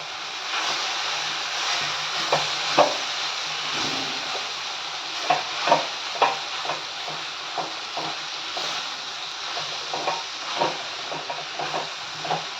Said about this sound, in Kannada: ನಾನು ಇದಕ್ಕೆ ಕಟ್ ಮಾಡಿ ಇಟ್ಕೊಂಡಿರೋ ಸೊಪ್ಪೆಲ್ಲ ಹಾಕ್ಕೊತೀನಿ ಹಾಕ್ಕೊಂಡು ಮೂರಿಂದ ನಾಲ್ಕು ನಿಮಿಷ ಬಾಡಿಸ್ಕೊತೀನಿ